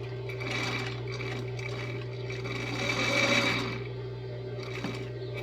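A sewing machine stitches a seam on a strap dress with a ruffle, running as a steady close hum that swells briefly louder midway, then settles.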